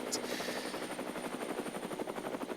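A helicopter sound effect plays as a continuous, fast rotor chop with a whining mechanical edge, steady and moderately quiet throughout.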